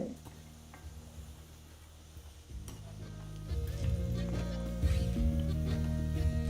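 Semolina cutlets frying in oil over a high flame with a continuous sizzling hiss, joined by utensil scrapes and clinks that grow louder toward the end.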